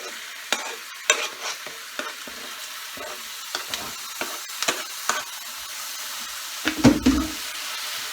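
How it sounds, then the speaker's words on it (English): Beef thrown into a pot with browning onions, sizzling and frying; a steady hiss runs under scattered clattering stirs, with a louder burst of sizzle and scraping near the end. "Throw the meat in there with them."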